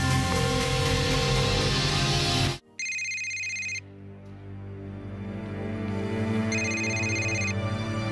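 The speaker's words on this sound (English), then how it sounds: "I keep hearing a phone that is ringing and ringing" A telephone rings in two bursts of bright electronic trilling, separated by a pause, sitting over a steady bed of background music at moderate loudness.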